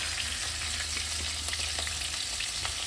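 A hilsa fish head fries in hot oil with a loud, steady sizzle and crackle, close up and unbroken, with occasional sharper pops.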